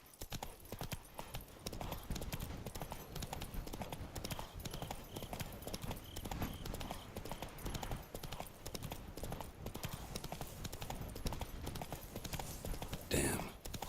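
Hooves clip-clop at a fast rhythmic gallop as a horse is ridden in The Witcher 3 video game, steady and continuous under game sounds, with a brief burst near the end.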